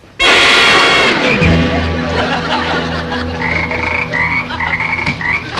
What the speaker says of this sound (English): All right, Mr. Krebs, what is this frog doing here?